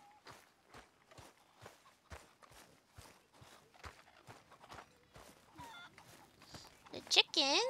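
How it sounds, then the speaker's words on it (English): Chickens clucking in Red Dead Redemption 2 near the town of Valentine, a flurry of close bird calls rising at the end over a steady rhythm of horse hoofbeats, with faint voices. "The chickens!"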